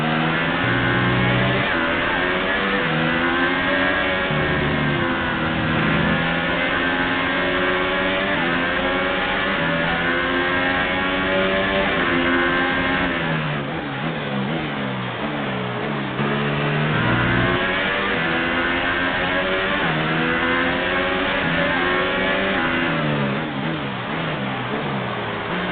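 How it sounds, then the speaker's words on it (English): Continuous high-pitched whine of a Formula 1 car engine in the F1 2018 racing game, running in lean engine mode mid-race, rising and falling through gear changes, loud and steady with no talk. "Let's turn the engine down, please."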